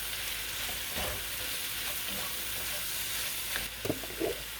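Tomato goes into a hot pan of shrimp for tacos, setting off a steady soft sizzle and frying crackle with a few light stirring scrapes and clinks near the end.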